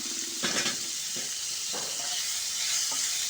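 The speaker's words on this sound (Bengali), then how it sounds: "আলুটাকে আমি এভাবে ভেজে নেব।" Potato and chopped onion fry in a pan with a steady sizzle, broken by a few spatula stirs and light scrapes against the metal; no one speaks.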